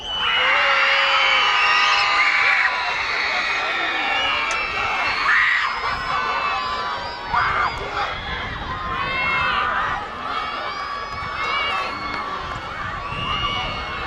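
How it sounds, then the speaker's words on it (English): A freshman class at a school homecoming pep assembly yells and cheers together, a loud sustained crowd roar of young voices with whoops and screams that swells and fades over several seconds, heard up close from track level. "The freshmen are going to yell."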